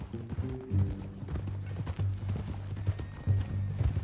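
A horse's hooves clip-clop in Red Dead Redemption 2, giving a steady, close walking rhythm of hard hoof strikes. A few low tonal game sounds sit underneath.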